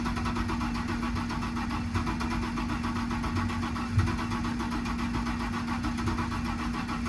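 A Comet car with a mechanical fuel pump, left sitting for three months, idles close by in a steady, even run with a faint low hum throughout and one brief bump near the middle.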